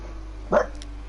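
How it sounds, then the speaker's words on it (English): A bulldog lets out one short, fairly close bark over a steady low background hum. "We've got a bulldog barking."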